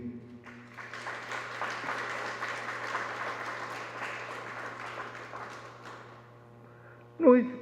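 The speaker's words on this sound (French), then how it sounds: "Nous lui disons merci par nos applaudissements" Congregation applause at a Catholic anniversary Mass, a sustained wash of clapping in a reverberant church over a steady low hum, fading out before a voice cuts in loudly at the end.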